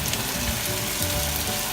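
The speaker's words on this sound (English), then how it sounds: "See that sizzle?" Steady crackling sizzle of onions frying with teriyaki sauce in a hot pan, continuous and close, with no talking.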